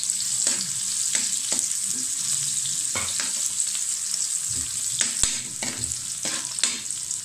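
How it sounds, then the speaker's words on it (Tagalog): Onion and garlic sautéing in hot oil for chicken liver and gizzard adobo, a steady bright sizzle with intermittent scraping stirs of a spatula against the pan, close and without any talk. "Igisa natin ang sibuyas. Isunod ang bawang."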